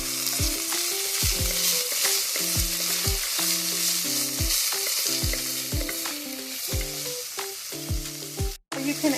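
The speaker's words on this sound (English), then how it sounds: "add in your minced garlic and saute for 1 minute" Minced garlic sautés in a pan with a bright, continuous sizzle. Rhythmic background music plays alongside, and the frying stays loud throughout.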